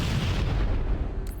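Grenade blasts in Halo: Combat Evolved, a dense, loud rumbling boom that fills the short moment with low, rolling explosion noise and no talk.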